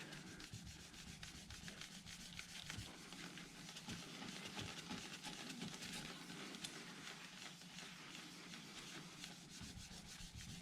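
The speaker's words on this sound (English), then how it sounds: "Still polishing, still going." Metal being polished by hand with Annie Blue metal polish, a steady, quiet rubbing and scrubbing that continues without a break for the whole stretch, with no voices.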